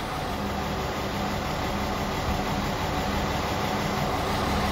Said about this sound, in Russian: И тут подъезжает какой-то просто реально детский поезд.